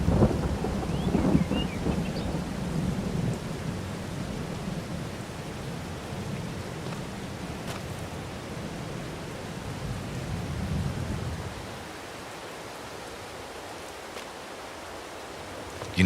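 Video game rain and thunder in Farming Simulator 22: steady rain hiss with low rumbling thunder rolling through the first part, then easing to a quieter, even patter of rainfall.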